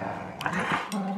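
Two dogs growl and snarl in short, rough bursts while tugging on a rope together, close up, with a person's voice mixed in.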